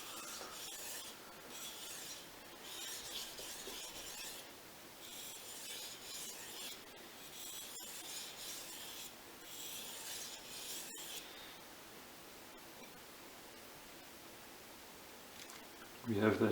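Light strokes of a Fujimoto honesuki knife along a Japanese waterstone on the primary bevel at 15 degrees, a soft repeated rasping scrape in steady passes, close by and fairly quiet.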